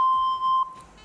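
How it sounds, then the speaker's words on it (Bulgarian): A quiz show buzzer on a Bulgarian TV game show sounds a single clean electronic beep, a steady high tone lasting just over half a second that cuts off abruptly, loud and alone. "ама след бипа"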